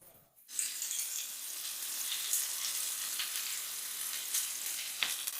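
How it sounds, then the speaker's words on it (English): Yakitori leeks pressed against the side of a hot pan give off a steady, close hiss of frying after a brief quiet start, with no talking. "to brown the sides, just press them against the side of the pan and leave them there"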